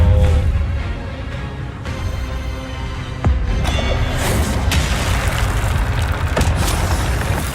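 Incendio fire spell cast in Hogwarts Legacy, loud whooshing blasts and booming bursts repeating over several seconds amid dense game combat noise, with sharp crackling impacts and no voices.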